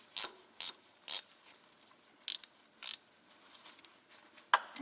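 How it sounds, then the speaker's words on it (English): Speed wrench ratcheting on a rusty rear strut nut of a 2004 Ford Explorer 4x4, heard as several short, sharp clicking bursts separated by pauses, close and fairly loud. "let me get in here with my speed wrench"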